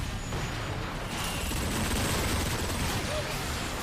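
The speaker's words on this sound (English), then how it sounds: "I think the Megatron's big cannon is the best gun in the game." Megatron's big fully upgraded cannon fires in the Transformers: Fall of Cybertron video game, a dense, continuous roar of heavy gunfire and blasts that stays loud and steady throughout.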